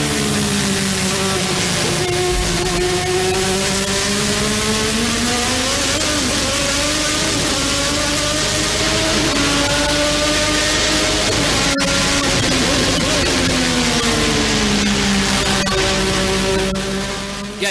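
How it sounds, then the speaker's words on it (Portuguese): A Japanese racing car engine revs up and down repeatedly, its pitch swelling and dropping in long waves, loud and close, with a sharp click partway through and no talking. "É um motor japonês."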